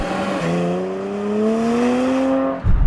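An Audi SQ5 engine accelerates hard from inside the cabin, a steady rising drone that climbs in pitch through one gear and cuts off with a thump at the end.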